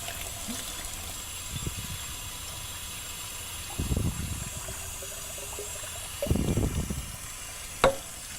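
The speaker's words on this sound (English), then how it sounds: "I'll get some tap water here as well." Tap water pours into a beaker in a few short bursts, with quiet gaps between pours and a small clink near the end, nearby and moderately loud with no speech.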